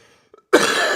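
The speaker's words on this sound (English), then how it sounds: "you're going to be hearing a lot of coughing today" A single loud, harsh cough from a sick podcast host breaks a near-silent moment and trails into a rough, breathy tail.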